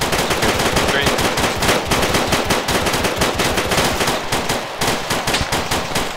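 Rapid bursts of 5.56 rifle fire during a military game operation, loud dense automatic shots cracking in quick succession throughout, with sharp repeated reports and no talk.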